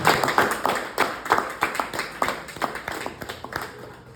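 A church congregation claps in a quick, uneven rhythm, a dense run of sharp hand claps at moderate distance, tapering off slightly.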